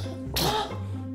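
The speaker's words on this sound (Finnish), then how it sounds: "Kuka täällä yskii?" A single short, throaty cough is voiced for a toy orca during children's doll play at a toy swimming pool, standing out briefly over a steady low hum.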